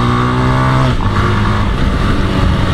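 A 1983 Honda TLR 200 trail motorcycle accelerates nearby, its engine note rising steadily and then dropping briefly as it shifts up, a loud, continuous single-cylinder drone.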